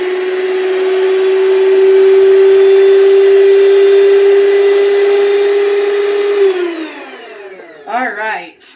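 An electric mixer whirs steadily through dinner roll dough at a loud, constant pitch for about six seconds, then winds down and stops, after which a voice begins speaking.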